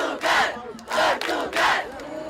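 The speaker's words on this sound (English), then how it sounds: "People from one country cheering the country of others." A large crowd of young Catholics at World Youth Day chants and cheers in three rhythmic bursts, loud rising shouts separated by short pauses, sounding like many voices chanting together in an open space.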